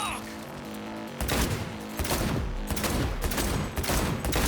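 Bursts of rapid gunfire crackle through a Cyberpunk video game firefight, dense and loud over a background of game music and effects.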